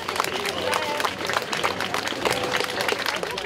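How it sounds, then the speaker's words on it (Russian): A crowd applauds the cosmonaut Sergey Prokopyev on his arrival in Sochi, with steady clapping close by and people talking over it. "Космонавта Сергея Прокопьева, как и положено, встречали аплодисментами"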